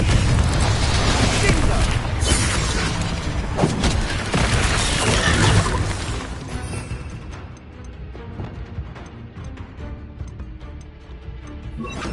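Bombarda explosion spell in Hogwarts Legacy, a loud booming blast with a crackling, roaring body that rumbles for several seconds before dropping to a quieter, lingering rumble, with a voice speaking among the game sounds.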